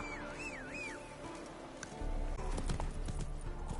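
The horse Roach trots in The Witcher 3, a steady clip-clop of hooves that grows louder and closer partway through, over in-game music and ambience, with no talking.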